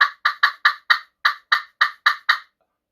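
A slate friction turkey call imitates a hen's cutting with about ten sharp, evenly spaced clucks in quick succession. They are loud and close with no voices, and silence follows at the end.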